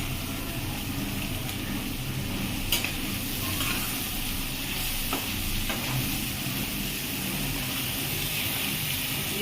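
Ridge gourd, potato and eggplant fry in a pan for a Bengali-style mixed pumpkin-greens chachchari, giving a loud, steady sizzle broken by a few scraping stirs of a spatula.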